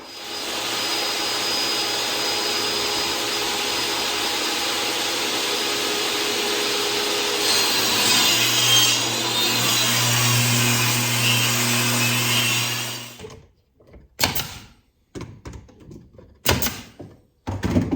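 Small wood pieces for a marten box are cut with a power tool, a loud continuous whining saw that runs for about thirteen seconds, then stops abruptly, followed by a few short bursts of handling noise.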